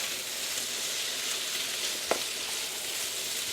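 Vegetables simmering in a pot over low heat give a soft, steady sizzling hiss, with one brief clink of a utensil partway through.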